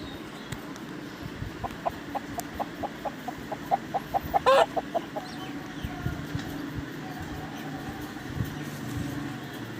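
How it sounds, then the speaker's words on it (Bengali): Chinese ducks on a farm call in a quick run of about a dozen evenly spaced, fairly faint honks, with a short louder cry in the middle and quiet outdoor background. "এগুলো চীনা হাঁস।"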